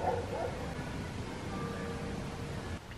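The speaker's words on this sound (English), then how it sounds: "and a dog barking" A dog barks faintly in the distance at Meteora, Greece, against a steady outdoor background hum, the yaps soft and indistinct.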